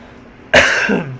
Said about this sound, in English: I don't know where the dry cough is coming from